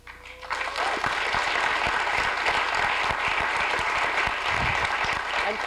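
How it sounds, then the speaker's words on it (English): Audience clapping at a panel discussion on Black and Latino politics, a sudden full burst of applause that swells in quickly and stays steady and dense. "We're not clapping because it's good news, by the way."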